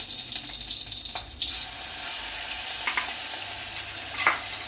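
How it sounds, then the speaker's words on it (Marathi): Steady sizzling of ginger-garlic paste frying in hot oil, a continuous crackling hiss with a few brief bursts, close by and with no voices. "तेल गरम झाल्यानंतर सगळं टाकायचं आणि ते चटचणीत आवाज आल्यानंतर टाकायचं"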